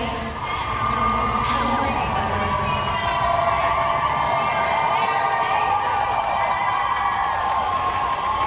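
Crowd cheering and applauding at the Boston Marathon start in Hopkinton, a loud continuous roar of shouts, whoops and clapping from a large gathering, unbroken from start to finish.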